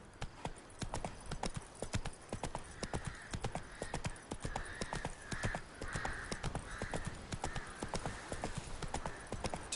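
Hooves of Roach the horse in The Witcher 3 clip-clopping steadily and close by at a brisk pace throughout, with a faint snort or whinny in the middle and no talk.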